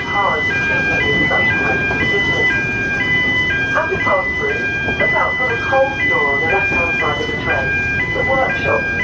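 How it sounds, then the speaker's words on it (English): A train's two-tone safety alarm sounds continuously at a zoo, alternating pitch in a steady cycle, with crowd chatter and voices underneath throughout. "Obviously the alarm going off for safety reasons."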